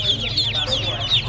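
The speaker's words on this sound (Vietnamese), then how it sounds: "Con vịt này được mấy ngày tuổi vậy? Mới 2 ngày." A two-day-old duckling peeps at a busy Vietnamese Tet market, with repeated high chirps over a low hum of background market noise.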